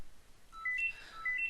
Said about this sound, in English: why would my phone go at this point?